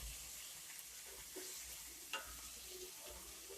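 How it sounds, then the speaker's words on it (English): Chicken pieces brown in a hot pan, a soft steady sizzle with a few light clatters as they are turned over. "this chicken at this point is starting to brown, and I'm just going to flip it right over"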